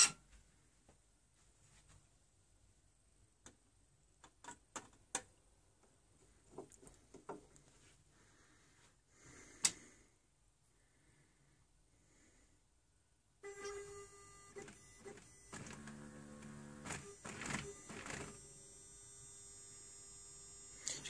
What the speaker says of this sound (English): You just need the machine to reset and line the reels up for you.